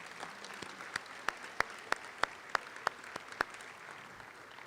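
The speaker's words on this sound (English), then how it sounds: "Now you may apply the thunderous applause." An audience at a retirement reception applauds, heard as sparse, evenly spaced claps, about a dozen in a steady rhythm, set against a quiet room murmur.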